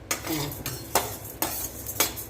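Rice with cumin and sesame dry-roasting in a pan, grains rustling under a steady stir, with four sharp scraping strokes of the spoon at roughly even intervals, close and clear.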